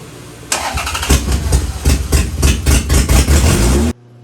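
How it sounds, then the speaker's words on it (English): A 1991 Toyota MR2 SW20 with a swapped 2GR-FE engine cranks on its first start attempt, rapid rhythmic turnover for several seconds, loud and close, then stops abruptly. "we're finally getting the engine started in my 1991 Toyota MR2"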